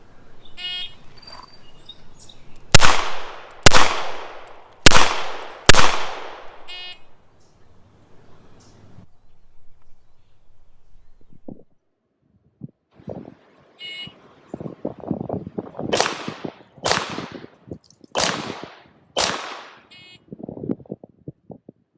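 S&W 686 revolver fired at targets during a law-enforcement pistol qualification course: a quick string of four sharp, loud shots, a pause, then a second string of several more reports with quieter clatter between them, no talking.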